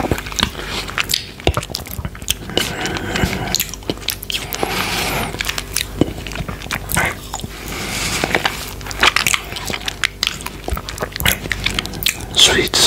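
Close, chewy eating of mochi yuzu ice cream, with soft squishy bites and sticky mastication repeating steadily throughout, loud and intimate with no talking.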